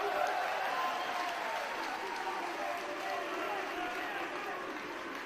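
A wrestling crowd cheers and applauds in a steady, dense roar that fills the whole stretch at an even loudness, with no distinct voices standing out.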